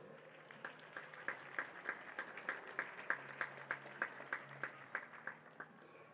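A karting race podium finisher at Wackersdorf, Germany, in the IAME Euro Series draws applause: a small, fairly faint crowd claps in an even, quick rhythm for several seconds.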